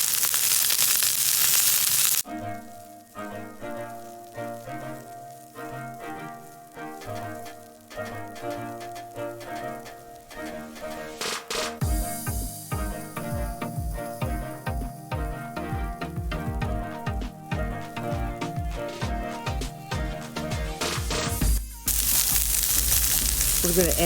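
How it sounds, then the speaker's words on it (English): Cabbage and onions sizzle and crackle in a hot pan, a steady loud frying hiss with bursts of rhythmic scraping and stirring in the middle, and no voices over it. "And now we're just going to add the cabbage. And cook that until it's limp."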